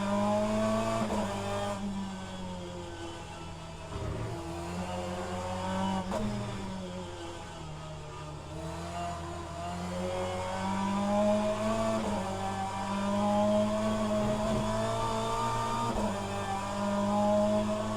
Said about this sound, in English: So we'll do a lap, touring car around Croft.